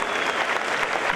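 Dense audience applause from a crowd at a stage show, steady and fairly loud throughout, many hands clapping at once with no distinct individual claps.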